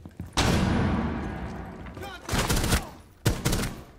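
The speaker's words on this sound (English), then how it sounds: "Flashbang!" A flashbang grenade goes off in the video game Rainbow Six Siege, a loud blast followed by ringing hiss, then further sharp bursts of game gunfire close by.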